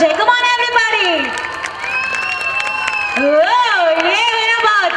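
Wedding guests cheer and clap for the bride and groom, loud whoops and shouting voices rising over a busy crowd with clapping mixed beneath.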